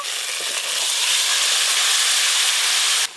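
Boiled bottle gourd tipped into a pan of hot oil and fried Bengali spices sets off a loud, steady sizzling hiss that holds for a few seconds and then cuts off.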